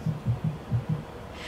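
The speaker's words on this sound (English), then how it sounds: "That's a heartbeat." A heartbeat in a dance piece's scored soundtrack, with five low, muffled thumps in quick paired rhythm, close and steady, and no voices.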